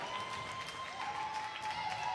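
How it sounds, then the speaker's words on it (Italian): Home fans at a Tarcento Serie C regional basketball game clap steadily through a dense, continuous wash of applause filling the gym. "Applaude il pubblico tarcentino"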